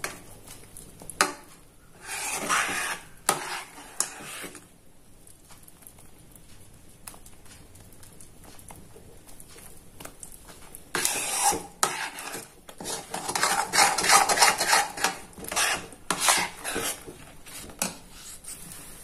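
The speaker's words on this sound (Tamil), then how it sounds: "இந்த மாதிரி கிளறிக்கிட்டே இருங்க." A spoon scraping and rubbing through thick Ashoka halwa cooked with ghee in an iron pan, making irregular gritty strokes and clinks that come in uneven bunches, quiet at times and busier toward the end.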